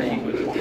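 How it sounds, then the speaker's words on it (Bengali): Fancy pigeons coo softly, a brief low murmuring call heard up close in a pigeon farm. "দর্শক এখানে দেখতে পাচ্ছেন এক পেয়ার কবুতর"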